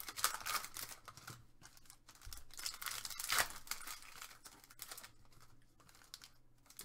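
Foil trading card packs for 2022-23 Panini Select NBA basketball are ripped open: quiet, close tearing and crinkling in short bursts, with faint handling between rips.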